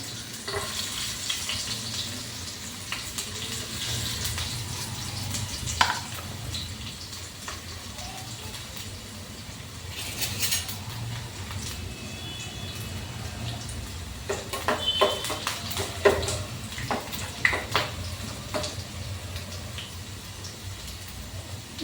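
Cumin, mustard seeds, green chili and garlic sizzle in hot oil, a steady crackling hiss with scattered louder pops and spits across the whole stretch, close and alone.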